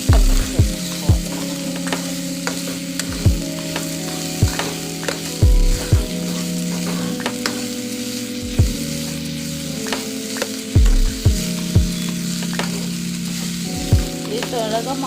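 Amaranth (thotakura) leaves fry in a pan with a steady loud sizzle, while a spatula scrapes and clanks in repeated stirring strokes at close range.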